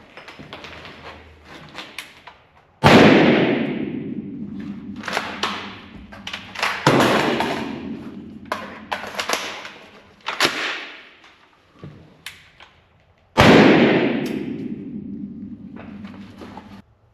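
An FN FS2000 rifle fires three loud, sharp reports spaced apart, each with a long decaying echo. Fainter clicks and handling noises fall between the shots.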